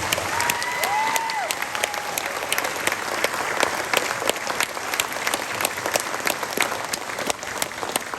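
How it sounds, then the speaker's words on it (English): Graduation audience applauding faculty and staff, a steady broad wash of many hands clapping through the whole stretch, with brief whistle-like tones near the start. "if we could give them a round of applause"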